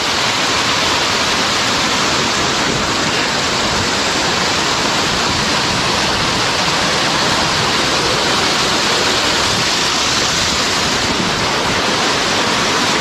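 A waterfall in the Georgia wildlands roars as a continuous dense rush of falling water, loud and close, with no voices over it.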